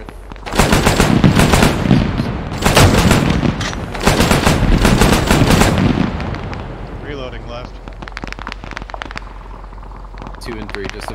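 Heavy automatic gunfire in a military video game, loud repeated bursts for the first six seconds, then fainter scattered shots and rattles; a voice talks at times over the battle.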